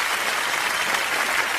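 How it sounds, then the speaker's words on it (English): Audience applauding a dance troupe at a live show, a brief dense burst of steady clapping from a crowd with no voices over it. "les ballets de Jack Doll aussi qu'on va applaudir très fort!"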